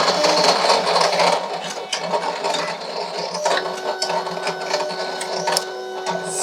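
A Cameo cutting machine cuts sticker sheets, whirring steadily with rapid mechanical chatter and carriage movement like a printer, close and continuous without any voices.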